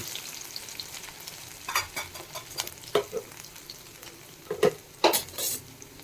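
Pirandai (veld grape) fries in oil, sizzling softly and continuously while a utensil scrapes and stirs the pan in scattered clanks and scratches.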